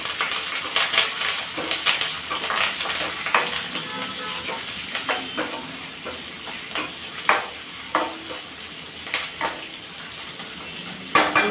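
Grated coconut and spices frying in a pan for coconut rice, a steady sizzle broken by repeated scraping and clinking as a spoon stirs against the metal.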